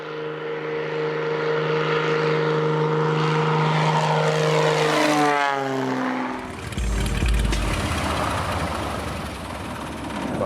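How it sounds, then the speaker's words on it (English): A propeller plane's droning engine passes close by, its pitch sliding down, then settles into a lower rumble as it comes in to land on a road in Alaska. "here comes this plane landing, you know, on the road"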